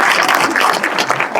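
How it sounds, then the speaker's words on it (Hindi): Audience at a career seminar in Leh or Kargil clapping for a student, loud, close and irregular, a short burst of hand claps. "पहले तो एक बार जोरदार तालियां हो जाए बच्चे के लिए"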